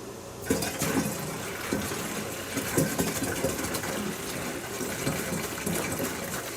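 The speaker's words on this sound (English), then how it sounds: "Okay, so we can pour this salty solution in now." A salty solution poured into a homemade weed killer mix, a continuous gushing liquid pour with small splashy bumps, fairly close and steady, with no talking.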